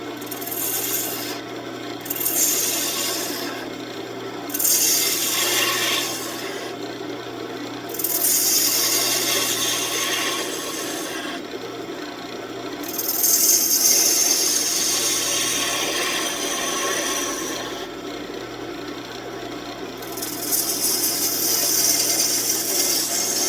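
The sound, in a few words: small gouge rounding over wood on a wood lathe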